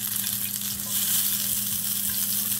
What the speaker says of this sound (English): This is a tablespoon of coconut oil. I'm gonna place this in the pot.